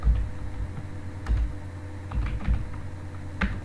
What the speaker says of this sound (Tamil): இப்போ நம்மளுக்கு தேவையான ரெக்கார்ட்ஸ்களை இப்போ தான் டைப் பண்ண போகிறோம்